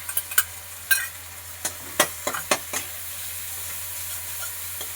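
Spices, salt, turmeric, chilli powder and ginger-garlic paste frying in a pan, with a quiet sizzle under several sharp scrapes and clinks of a spoon stirring, spaced unevenly.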